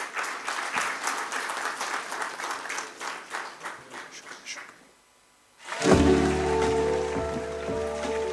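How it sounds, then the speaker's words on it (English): An audience at the National Mines Ministers' Conference 2022 gives a steady round of applause lasting about five seconds, dense and even, before it stops and a sustained tonal sound begins. "can we accompany this wonderful occasion with a huge round of applause coming from the audience"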